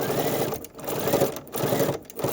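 A sewing machine top-stitches fabric along double curves, its steady close whir running in three bursts separated by brief pauses, with no talking.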